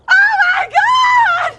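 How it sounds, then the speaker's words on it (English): A woman screams in sheer horror in a film scene: two loud, sustained, wavering shrieks separated by a brief break, close and alone. "screams in sheer horror"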